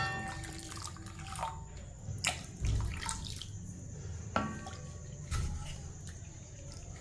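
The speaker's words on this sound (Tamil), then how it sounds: "நம்ம தேவையான அளவுக்கு தண்ணி ஊற்றிக்கிடுவோம்" Water splashes and trickles into a cooking pot for soup in a few short, uneven bursts, close and fairly quiet.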